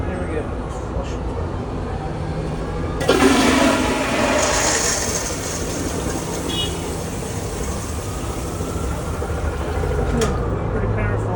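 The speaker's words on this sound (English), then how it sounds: "Pretty powerful flush." A permanent plumbed outdoor public toilet in Philadelphia gives one strong, rushing flush that starts abruptly and then roars steadily for several seconds over a constant street background.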